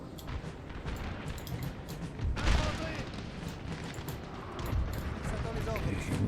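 Distant artillery gunfire and volleys rumble through a Napoleonic-era battle in Napoleon: Total War, a steady dense din of muffled booms with a few louder swells, while someone talks over it.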